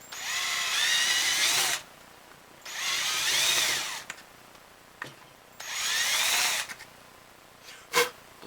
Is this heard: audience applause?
no